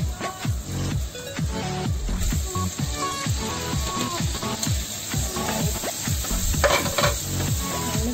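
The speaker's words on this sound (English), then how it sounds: "After the garlic, we're going to put our corn." Corn tossed into garlic frying in a pan for a pork, corn and butter dish, loud continuous sizzling with repeated rhythmic scraping and stirring strokes throughout, close and unbroken by talk.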